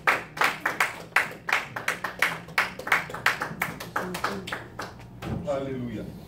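Congregation in a church rhythmically clapping in steady unison to acclaim the Lord, a run of sharp, evenly spaced claps that gives way near the end to a voice.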